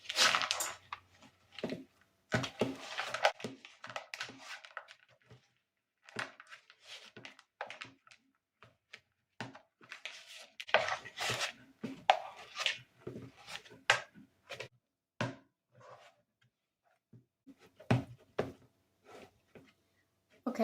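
Chocolate chips worked into thick cookie dough by hand, a run of irregular dull thumps, squelches and scrapes with quiet pauses between bursts, no speech.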